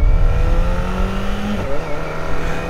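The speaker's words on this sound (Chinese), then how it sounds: "现在出门有一些台阶什么的，就感觉需要多拉一些油门" A Kawasaki ZX25R with a four-cylinder engine revs under throttle, a loud, close, steady whine that climbs in pitch toward the end.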